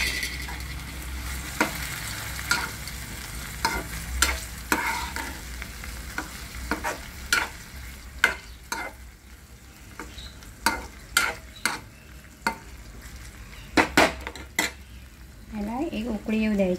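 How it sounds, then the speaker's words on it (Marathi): Boiled chicken is added to hot masala and stirred with a metal spoon, sharp scraping clinks against the pot over a soft sizzle, close and irregular, with brief background voice near the end. "आता यामध्ये आपले हे चिकन जे आपण बॉईल करून ठेवलेले आहे ते टाकायचं"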